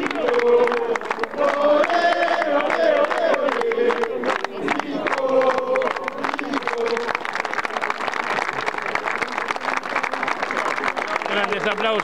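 A crowd at a tribute for a footballer claps and cheers steadily for several seconds, dense applause with shouts, under a voice speaking over it.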